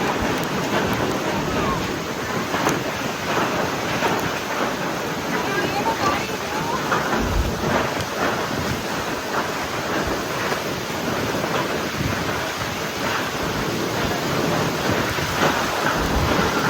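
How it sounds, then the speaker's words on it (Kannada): Heavy rain begins falling at sea in the Andaman Islands, a constant rushing wash mixed with surging waves and gusting wind, broad and roaring throughout with occasional louder bursts. "ಮಳೆ ಸ್ಟಾರ್ಟ್ ಆಗಿಬಿಡ್ತು"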